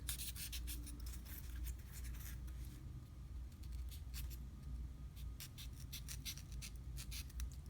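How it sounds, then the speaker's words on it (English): Blade trimming the sides of a handmade Hoth terrain piece for Star Wars Legion, heard as close, quiet scraping and rubbing strokes in irregular bursts over a low steady background hum. "now I'm just kind of cutting down the sides to make it a little bit more round, not quite so blocky"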